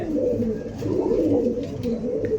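Several Maxi pigeons coo continuously in low, overlapping murmurs in a rooftop aviary, close and fairly loud, with a few faint clicks and rustles.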